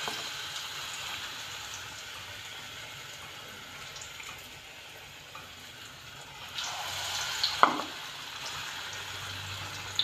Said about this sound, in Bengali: তো এবার আমি একটা একটা করে এতে ডিপ করব